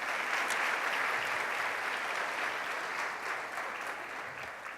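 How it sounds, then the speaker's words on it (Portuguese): Church congregation applauding a volunteer who came up to help during a sermon, a steady dense wash of many hands clapping that fills the whole stretch and fades slightly toward the end. "Uma salva de palmas para ele"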